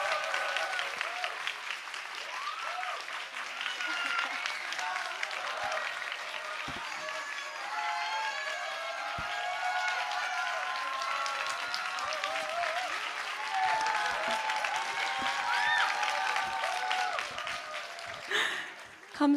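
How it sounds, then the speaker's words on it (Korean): Church congregation applauds a worship singer as she comes forward, a sustained wave of clapping lasting many seconds, with scattered voices and a speaker breaking in near the end. "큰 박수로 우리 환영하도록 하겠습니다."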